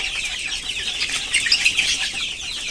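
Roosters and young chickens in a poultry shed, with flapping wings and clucking; busy, fairly close bird noise continuing throughout, no talk.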